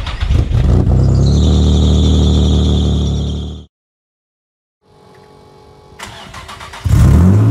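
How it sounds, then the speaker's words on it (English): Turbocharged Nissan G35 engine cold-starting, with a belt squeal and a single-exit exhaust: a loud, sustained rev with a high whine, cut to silence, then quieter idle rumble building back to a loud roar. "let's get a cold start"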